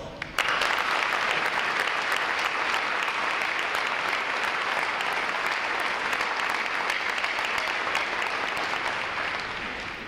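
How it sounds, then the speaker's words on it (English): An audience at an NROTC graduation ceremony applauds the instructors with dense, sustained clapping that starts suddenly and continues steadily before easing slightly at the end. "So let's give a round of applause to all the instructors."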